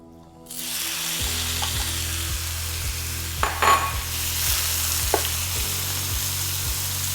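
Beef hitting hot canola or peanut oil in a pan: a loud, steady sizzle that bursts in at once and holds close throughout, with a few sharp clatters of stirring over a low rhythmic hum.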